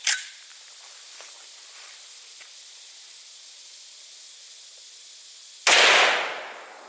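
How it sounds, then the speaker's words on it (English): A Desert Eagle .44 Magnum fires a 240 grain Hornady XTP round into ballistics gel: one sharp crack at the start, a quiet stretch of faint hiss, then a second loud blast that decays over about a second. "the next bullet we're going to shoot is the 240 grain Hornady XTP"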